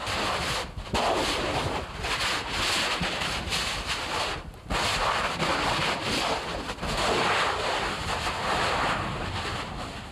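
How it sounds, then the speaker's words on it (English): Littoral explosions where seawater meets lava on Hawaii's Big Island: a continuous roar of booming, broadband blasts and rumbling surges over about ten seconds, loud and close, with brief dips between bursts and wind buffeting the microphone. "there is sometimes a violent meeting of nature when seawater infiltrates a lava tube system. These are called littoral explosions."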